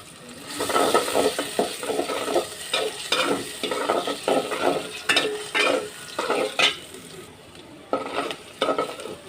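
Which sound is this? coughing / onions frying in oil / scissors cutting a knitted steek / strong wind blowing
onions frying in oil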